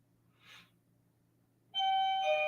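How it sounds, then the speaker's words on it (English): A doorbell chime rings inside a home, a bright sustained multi-tone ding starting partway through after a brief soft noise, clear and fairly close over a low steady household hum. "That's my doorbell."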